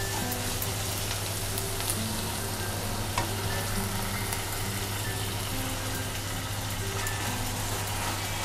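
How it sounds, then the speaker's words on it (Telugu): Poppy seed and coconut paste fries in a pan for a meal maker curry, giving a steady, dense sizzle throughout with faint scattered crackles and no talking. "ఇది కొంచెం పచ్చివాసన పోయే వరకు ఇలా వేగనిచ్చుకోవాలన్నమాట."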